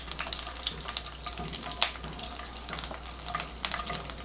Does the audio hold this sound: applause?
no